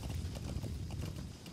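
A horse's hooves clip-clop at a steady trotting rhythm in Metal Gear Solid V: The Phantom Pain, the beats quick and close over a rumbling game background, with no speech.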